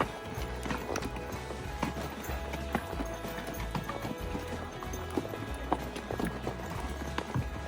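Horse hooves clip-clop steadily on a trail ride at Bear Camp in Wyoming, a continuous close rhythmic thudding of hoofbeats with saddle creaks and faint movement noise, no talk.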